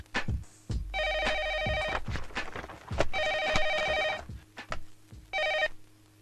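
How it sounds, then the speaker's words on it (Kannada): A telephone bell rings in three distinct bursts of trilling rings separated by short gaps, clear and fairly loud indoors, with a few knocks and footsteps between them and no speech. "ಯಾಕೋ ಫೋನ್ ತೆಗಿಯಕ್ ಇಷ್ಟೊತ್ತು?"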